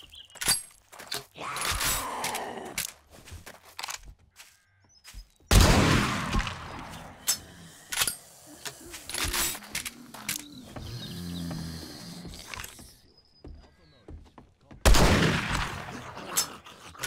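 Scattered gunshots in the game 7 Days to Die ring out in separate loud bursts with quiet gaps between them, some sharp cracks followed by rustling and thuds.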